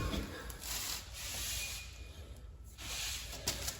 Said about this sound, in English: Now we can go ahead and rip our axle shaft out